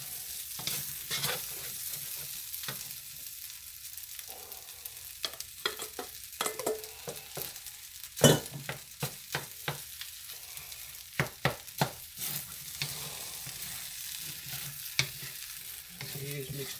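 Eggs sizzle in a pan of chicken fried rice while being stirred, a continuous crackling fry punctuated by repeated sharp clacks and scrapes of a utensil against the pan.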